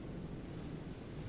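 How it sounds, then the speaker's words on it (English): Steady wash of gentle water ambience from Myst 3, a soft continuous rolling hiss like lapping waves or surf, even and unbroken with no voices. "I do have the water effects turned on because it's kind of pretty."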